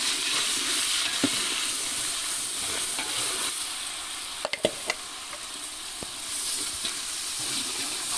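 Ground shallots frying and sizzling in a pot for Madurai-style mutton biryani, a steady close hiss with occasional stirring scrapes and clinks, no talking.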